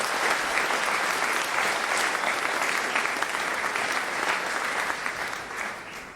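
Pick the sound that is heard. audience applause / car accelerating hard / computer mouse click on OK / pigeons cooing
audience applause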